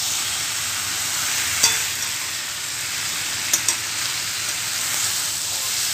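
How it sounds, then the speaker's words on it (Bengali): Pumpkin curry with drumsticks sizzles and fries steadily in a pan, with a couple of sharp spoon clinks as it is stirred and a close, continuous hiss throughout. "একটু নেড়ে নেড়ে কষিয়ে কষিয়ে দমে করা।"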